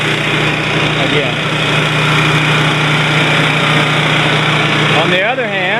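A small gasoline generator engine runs steadily and loudly up close, a constant droning hum with a buzzing hum underneath, and a voice comes in briefly near the end.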